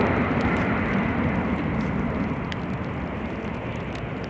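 A Ryanair airliner roars at Edinburgh airport in gusty crosswind and rain spray, a loud broad continuous rush of engine and wind noise that eases slightly toward the end.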